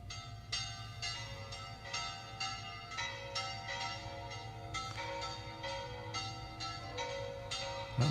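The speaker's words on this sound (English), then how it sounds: "So it's going to be like bells." Cathedral warning bells from a Syrinscape fantasy soundscape toll in a steady repeating pattern, each strike ringing with long bright overtones over a low rumbling drone, loud and continuous throughout.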